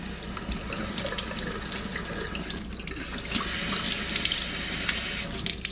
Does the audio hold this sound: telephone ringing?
no